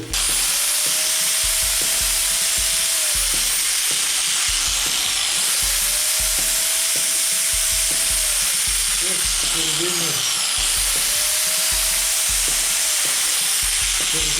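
An old Procraft PW1100 angle grinder runs free with no load, a steady high whine and buzz over an uneven knocking rattle, close and loud, with a voice speaking in places.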